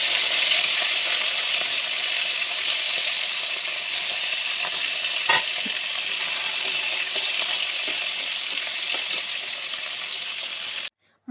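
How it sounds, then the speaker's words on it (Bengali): Fish frying in hot oil in a wok, giving a steady, close hiss and sizzle with faint crackles throughout, then breaking off abruptly near the end. "তেলটা গরম হয়ে গেলে মাছ ভেজে নিতে হবে।"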